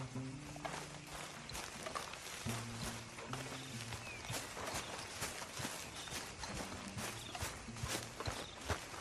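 Horse hooves trot in a Red Dead Redemption 2 game scene: a steady rhythmic clopping runs throughout over a dense, constant background of ambient game sound, with faint tonal music underneath and no clear speech.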